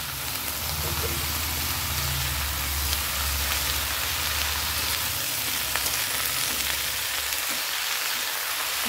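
Washed greens go into potatoes frying in a pan, a loud hiss of sizzling oil that rushes like rain and then settles to a steadier crackle.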